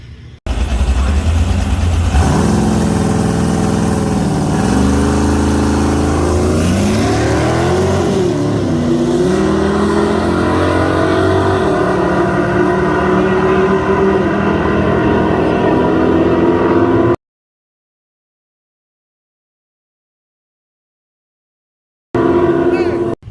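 A drag race car on E85 launches hard down the track, its loud engine roaring and climbing through gear changes before the sound cuts off abruptly, with talk faintly mixed in.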